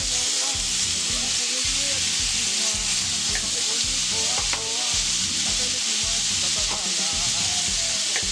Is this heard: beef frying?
yes